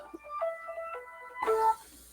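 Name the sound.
mobile phone ringtone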